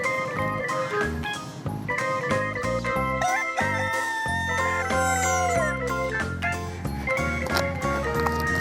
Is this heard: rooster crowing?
yes